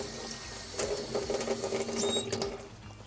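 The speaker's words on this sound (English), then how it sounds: "But I'm gonna just give this a quick rinse." Squid getting a quick rinse under a running kitchen tap, water splashing and pattering unevenly against the flesh and sink, fairly quiet and close, with no talking.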